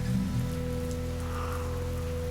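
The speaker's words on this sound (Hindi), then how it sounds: "अभी भी बारिश बहुत तेज थी।" Heavy rain in an animated Hindi horror story on a stormy night, a steady dense downpour hissing evenly throughout with a low background hum and no voices.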